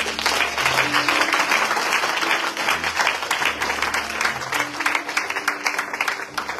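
A church congregation claps steadily and densely throughout, the applause loud and sustained, with held keyboard or organ notes playing underneath.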